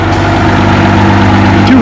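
Loud, steady engine roar from a 770 pulling tractor in the 4000–4250 lb classes at the Othello spring pull, running continuously close by with heavy low rumble throughout, no break.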